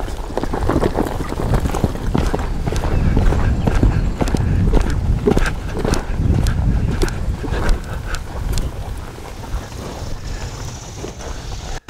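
A horse being asked to run off, its hooves thudding in a fast, uneven rhythm close by under heavy wind noise on the microphone, the footfalls loud throughout before easing toward the end.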